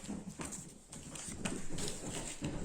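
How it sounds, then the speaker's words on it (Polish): Pet cats thundering across a floor like a herd of horses, a quick run of soft thumping footfalls spread through the short stretch, moderately close and with no talk over it. "Jeśli słyszycie, jakby tabun koni leciał, to moje koty."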